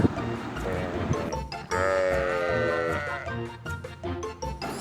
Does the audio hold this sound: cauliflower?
no